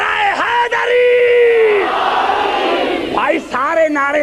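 Many voices at a religious majlis roar the Naara-e-Haideri slogan together, loud sustained group shouting with a rising yell, a brief dip, then another surge of chanting.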